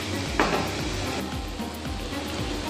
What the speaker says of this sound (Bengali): মশলাটার সঙ্গে এটা একটু ভালোভাবে কষানো করবো।